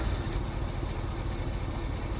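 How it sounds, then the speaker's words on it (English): Mercedes truck engine idling in Euro Truck Simulator 2, a steady close low diesel rumble with a constant even texture and no clear start-up burst. "start the engine up"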